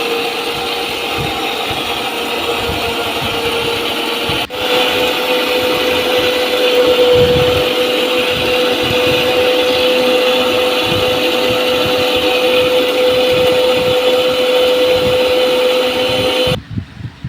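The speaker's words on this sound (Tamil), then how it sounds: "தக்காளி சேர்த்து நல்லா மிக்சியில் வந்து அரைச்சி எடுத்துக்கணும்" An electric mixer grinder runs loud and steady while blending rice and tomatoes, its motor whining at a constant pitch for about sixteen seconds before cutting off abruptly near the end.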